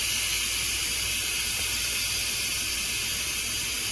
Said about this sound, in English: that's releasing the steam